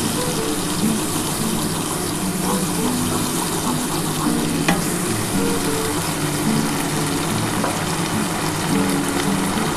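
A mustard and poppy seed spice paste sautéing in a pan makes a dense, continuous sizzle and bubbling hiss, loud and close, with faint stirring scrapes mixed in and no talking.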